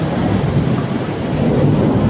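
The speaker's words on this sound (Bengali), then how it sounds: "মেঘ ডাকছে" Thunder rumbles low and continuous through heavy rain at a railway station in Delhi, a dense wash of rain noise layered over the deep roll with no speech.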